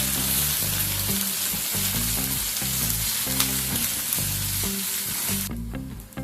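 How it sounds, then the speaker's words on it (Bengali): Chopped onion pieces, cut fairly large, sizzle steadily in hot oil for a fish curry, a dense continuous frying hiss with background music running through it until it cuts off near the end. "এটাকে এবার তেলের মধ্যে দিয়ে দেব। পেঁয়াজটাকে সামান্য একটুখানি ফ্রাই করে নেব।"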